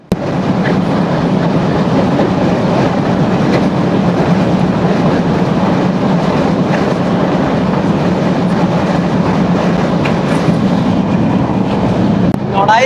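A passenger train rumbles steadily across the Madhumati rail bridge between Narail and Gopalganj, a continuous loud roar with rhythmic wheel clatter throughout, heard from on board with faint voices in the background.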